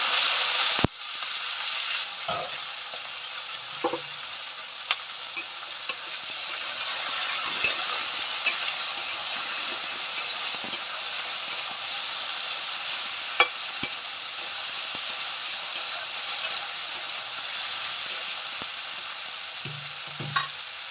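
White eggplant and green chili fry in a pan with a steady, close sizzle and hiss, broken by a few sharp clinks and stirring scrapes, no voices.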